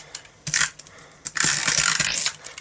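Handmade shaker birthday card with loose filling shaken in bursts, short rattling clatters in quick irregular groups, close and fairly loud.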